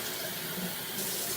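Tap water pours steadily into a kitchen sink, a close, continuous hissing splash with no pauses and no voices.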